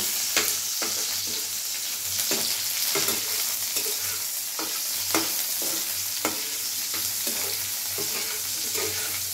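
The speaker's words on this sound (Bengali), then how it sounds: "এই পেঁয়াজটা দিয়ে দিচ্ছি, আলুর সাথে একটু নাড়াচাড়া করে নেব।" Onion is stirred into potatoes in a frying pan while cooking a cabbage and fish-head ghonto; a spatula scrapes the pan in sharp, repeated strokes over a steady sizzle, with no talking.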